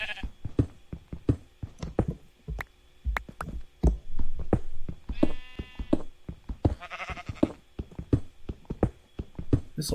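Sheep in Minecraft bleat in several harmonic calls amid a steady stream of sharp block-breaking clicks and taps, the bleats mid-distance and moderately loud, with no voices.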